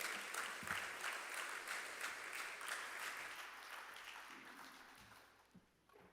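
An audience at the Jamaica Agri-Business Investment Forum applauds to welcome Minister of Agriculture Floyd Green, a dense, steady round of clapping that gradually tapers off toward the end.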